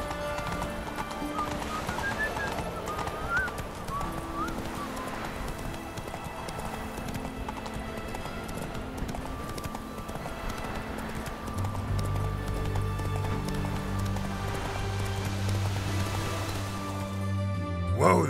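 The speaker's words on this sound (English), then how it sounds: "Whoa there, Roach." Horse hooves clip-clop steadily at a galloping pace throughout, close and fairly loud, from a mount ridden in the video game The Witcher 3: Wild Hunt, layered over a sustained musical score that swells with deep low tones near the end.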